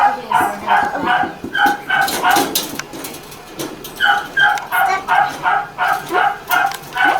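Dog in a kennel being taken out on a slip lead, barking repeatedly in a steady rhythmic series of loud, close yips and bow-wows with brief gaps between.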